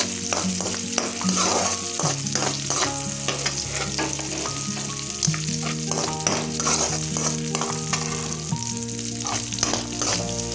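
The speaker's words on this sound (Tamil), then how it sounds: "பட்டர் மெல்ட் ஆனோடனே நாம் இந்த திராட்சை முந்திரி சேர்த்து லைட்டாக பொன்னிறமாக வறுத்துக்கலாம்" Raisins and cashews fry in melted butter with a close, busy sizzle while a spoon stirs and scrapes them in quick repeated strokes.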